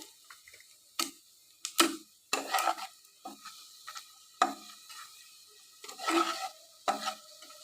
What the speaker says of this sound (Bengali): একটু জিরা ফোড়ন দিয়ে নিলাম